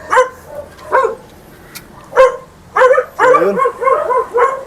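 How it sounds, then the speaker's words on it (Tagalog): Large guard dogs bark in loud, close, irregular bursts, with deep barks joined by yips and whimpering whines. A voice speaks briefly among them. "Parang nakakaba mga par, laki ng mga aso oh."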